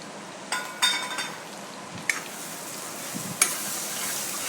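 Onion-garlic masala, chilli powder and turmeric sauté in oil in a pan for a cowpea curry. There is a steady sizzle, and a spoon scrapes and clinks against the pan a few times.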